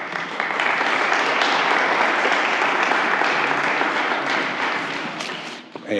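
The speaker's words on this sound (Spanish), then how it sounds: "Un aplauso para Sebastián." A symposium audience applauds a speaker at World Explorers Symposium: loud, dense clapping from a large crowd, sustained for around five seconds before thinning out and tailing off abruptly at the end.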